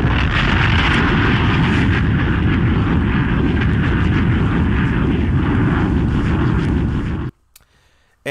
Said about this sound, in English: Let me give you that bomb button.